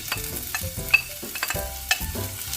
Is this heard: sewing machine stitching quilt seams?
no